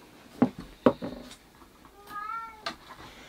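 A house cat meows indoors in a plant room: a brief rising-falling call after a couple of soft knocks, faint and close in an otherwise quiet room.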